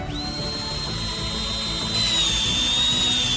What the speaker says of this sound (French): Percez un trou sur le côté avec un tournevis.